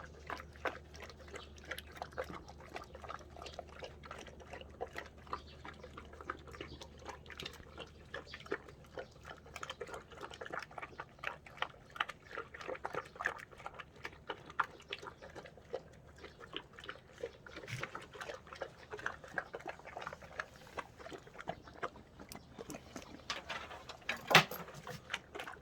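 A Cane Corso, a large dog breed, chews dried pollack with steady wet smacking and crunching bites, close but fairly quiet, continuing the whole time without talking.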